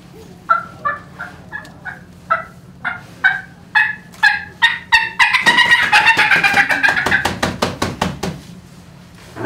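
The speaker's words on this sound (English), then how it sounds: "That was a fly down cackle." Wild turkey hen fly-down cackle on a call: spaced yelps that speed up into a rapid, dense burst of sharp cackling notes, then trail off, loud and close with no speech.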